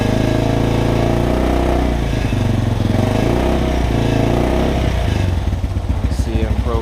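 An ATV engine with a newly replaced charging coil runs close by with a loud, steady idle chug that holds for the whole stretch, without any talk over it.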